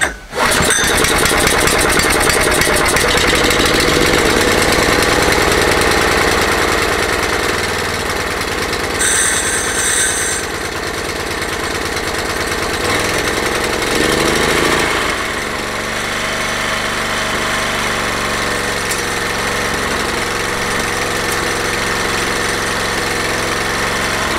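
Iseki A500 two-wheel tractor engine in neutral, roaring loud and close right from a start, with a brief throttle swell around mid-clip before settling into a steady, rough idle.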